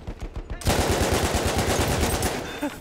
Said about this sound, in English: Can I not spawn next to the fucking sentry shooting at me,